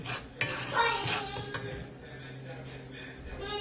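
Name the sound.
stirring mustard hilsa fish curry in a pan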